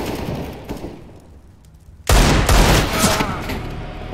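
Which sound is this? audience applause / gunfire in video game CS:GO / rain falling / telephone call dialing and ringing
gunfire in video game CS:GO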